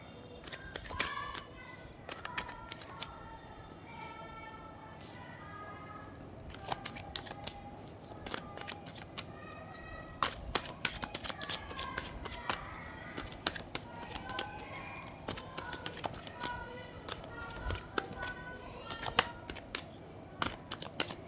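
Tarot cards shuffled by hand during a reading: repeated crisp riffling and flicking bursts, moderately near, with faint background chatter at times.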